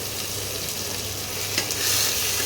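Onion paste fries in hot oil with pieces of katla fish for a kalia curry, a loud, close, continuous hissing sizzle that swells slightly near the end, with no talking.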